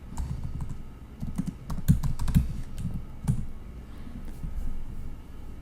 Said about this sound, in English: Let's type in SAM validate.